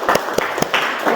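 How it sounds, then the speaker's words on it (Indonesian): A classroom applauds a student group, with a short burst of dense clapping and a few sharper individual claps, close and moderately loud. "tepuk tangan untuk kelompok 1"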